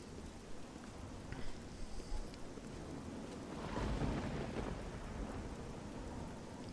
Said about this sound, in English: Well, there's some light left, but it's still raining.